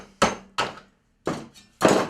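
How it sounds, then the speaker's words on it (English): A club hammer hits scrap metal to flatten it before melting, four loud, sharp, close blows with short decays, separated by brief silences, with no talk. "get your club hammer"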